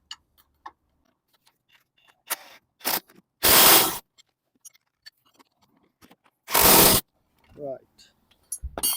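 Ratchet clicks and metal-on-metal scrapes from a 15 mm spanner and 18 mm socket tightening a bolt on a Ford Fiesta's coil spring assembly, two longer ratcheting bursts among sharp isolated ticks, close and fairly loud.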